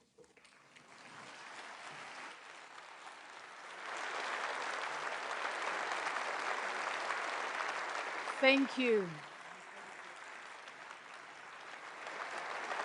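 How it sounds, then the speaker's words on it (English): A large audience at a defence forum applauds steadily after a speech by Ukraine's president, Volodymyr Zelensky, swelling and holding for several seconds while a speaker briefly says thanks over it and a short rising feedback-like squeal cuts through near the end. "a very big round of applause for the President of Ukraine, Volodymyr Zelensky."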